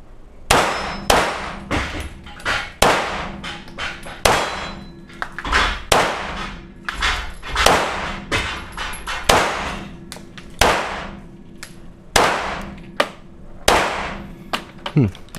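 A light handgun fires repeatedly at steel targets on a shooting range in the Czech Republic, each sharp crack followed by a ringing metallic clang, in an uneven series of close shots with voices talking between them.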